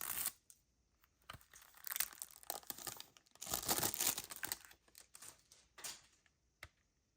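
A plastic-wrapped CD single package, the type C edition, is torn open and handled up close: crinkling, tearing and crumpling bursts in an irregular rhythm, with no talk.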